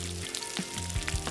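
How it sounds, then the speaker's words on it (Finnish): Bacon slices frying in a pan, a steady close crackle and sizzle with small pops scattered through it, no talking. "katsoa, kun pekoniviipaleet paistuu pannulle"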